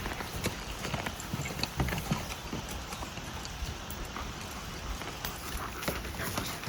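Mule hooves clip-clop steadily on a trail while riding through coffee plantations in Jardin, Colombia, a continuous close rhythmic patter of hoofbeats with no talk.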